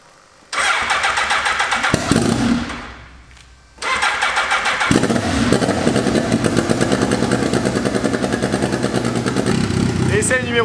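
A turbocharged Monkey-style motorcycle engine on a dyno test bench cranks and fires, stumbles and dies briefly, then restarts and runs loud and close with a rapid, rough, pulsing idle.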